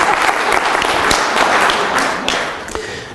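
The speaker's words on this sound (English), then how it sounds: "Round of applause." A lecture audience gives a loud round of applause after a retelling of the story of Noah, dense clapping that fades slightly toward the end, with no talk over it.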